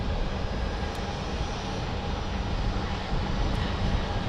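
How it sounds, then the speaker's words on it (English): A Bombardier Challenger 600 business jet rushes past an airport in Portland, Oregon, its steady broadband engine roar holding at an even, moderately loud level for the whole stretch with no voices over it. "just blowing by here. Looks like a NetJet 600. Bombardier Challenger 600"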